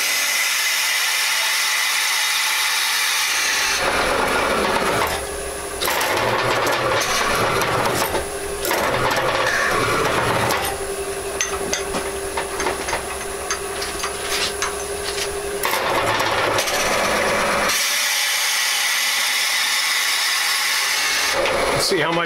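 A wooden lamp base spins on a woodturning lathe while a bit drills into it, producing a steady loud grinding, whirring noise that runs continuously for most of the stretch, with quieter motor hum before and after.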